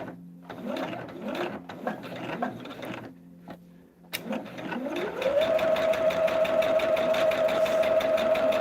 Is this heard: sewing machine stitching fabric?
yes